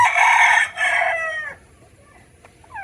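A pet turkey calls in a couple of loud, harmonic bursts, followed by quieter trailing notes with nearby background noise.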